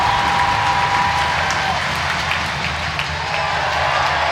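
A dense roar of cheering and applause fills an ice hockey arena after the Sheffield Steelers' overtime win over the Coventry Blaze, loud and sustained with no let-up, a low rumble beneath the wash of noise.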